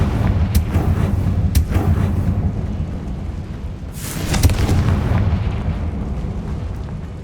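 A Confringo fire spell explodes in the video game Hogwarts Legacy, a loud booming blast with crackling bursts and a rumbling tail, preceded by sharp impacts.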